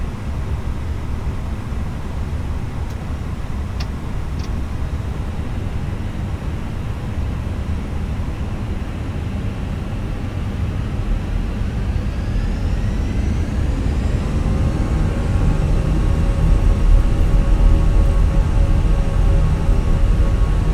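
Airbus A320-200 engines in a flight simulator spool up for takeoff, a steady broadband jet roar that swells louder toward the end as a rising whine builds, with no talk over it.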